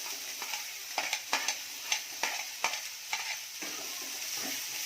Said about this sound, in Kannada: ಚೆನ್ನಾಗಿ ಬ್ರೌನ್ ಕಲರ್ ಬರೋವರೆಗೂ ರೋಸ್ಟ್ ಮಾಡಿ.